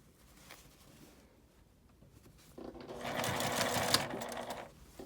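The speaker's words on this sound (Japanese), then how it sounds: "ここに端ミシンをかけていきます。" A sewing machine edge-stitches a fabric zipper pouch, starting after a quiet stretch with light handling noise, then whirring steadily for about two seconds before stopping.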